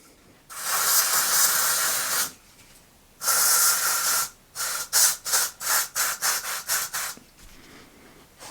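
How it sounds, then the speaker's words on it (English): Long broadband hissing blasts of aerosol spray used to remove permanent marker, two sustained bursts followed by a rapid series of short, evenly spaced spurts, close and fairly loud. "I've used quite a lot of spray on this."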